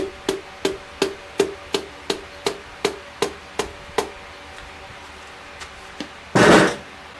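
A hammer taps a piston into a Chevy 454 big-block engine with about a dozen evenly spaced, sharp knocks at close range. After a short pause there is a brief, louder scraping burst.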